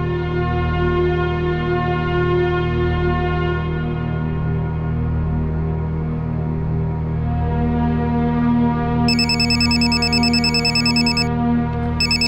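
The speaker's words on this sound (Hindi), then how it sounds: "शहनाज का फोन?" A telephone rings with a steady, repeating electronic ringtone inside a home. A brighter ringing tone joins in near the end.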